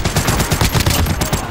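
Rapid video-game gunfire, a loud dense burst of repeated shots in quick rhythm, close and continuous throughout.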